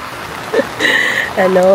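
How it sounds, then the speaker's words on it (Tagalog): Steady rain hissing in the background in the Philippines while a voice talks over it briefly. "Raining."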